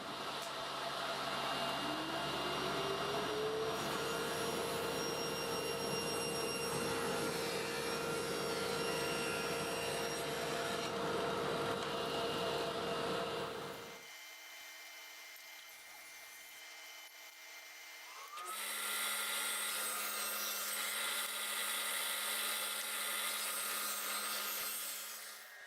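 A table saw ripping a wooden board into strips against the fence, the blade whining and rasping loudly through the wood, pausing briefly into a quieter idle before cutting again.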